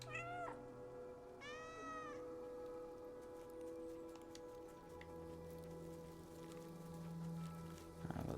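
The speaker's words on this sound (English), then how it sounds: "When I meow, they meow." A cat in the video game Stray meows twice, drawn-out and rising, close and clear over a steady backdrop of rain and low ambient hum.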